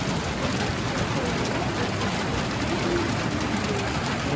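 Heavy hail and rain pound a galvanized metal roof in Enerhodar, Ukraine, making a dense, steady, close roar that holds at the same loudness throughout.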